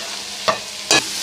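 Carrots frying in oil for Afghani pulao, a steady sizzle with two short scraping stirs of a spoon in the pan, close and fairly loud, with no voices.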